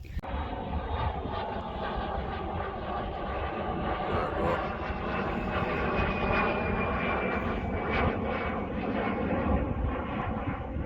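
A Vampire jet aircraft at an air display, a loud continuous roaring engine sound with a steady tone sweeping slightly as it passes, sustained throughout.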